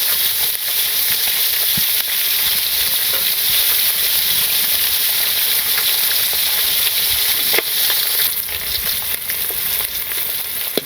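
Koi fish pieces fry in a pan with a dense, continuous sizzle and hiss, loud and close, with occasional sharper pops and spatula scrapes throughout, no voices.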